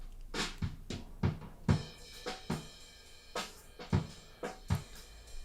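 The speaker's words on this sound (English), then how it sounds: "It's doing the phase shifter thing nice." Soft, swooshing sweeps rise and fall repeatedly over a quiet background, with a handful of faint clicks in an uneven rhythm.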